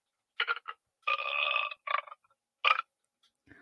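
Burp sound effect from a toy sound machine: several short bursts, then a longer drawn-out belch and a few more clipped bursts, close and fairly loud with no talking over it.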